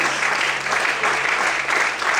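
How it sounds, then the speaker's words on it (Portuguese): Dense, continuous applause from a church congregation during a sermon, even and full throughout with no voices standing out. "Vamos poder aplaudir ao Senhor por isso."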